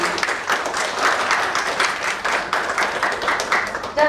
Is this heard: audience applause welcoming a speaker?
yes